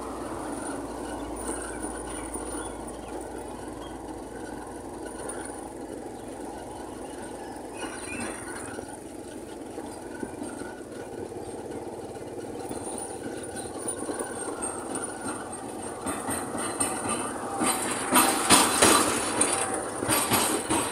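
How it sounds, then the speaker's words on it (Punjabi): A vehicle comes along a badly broken, damaged road through a forest, its engine rumble and rattle growing steadily louder and closer over about twenty seconds, with no talking. "ਗੱਡੀ ਵਾਲਾ ਆ ਰਿਹਾ ਦੇਖ ਲਿਆ"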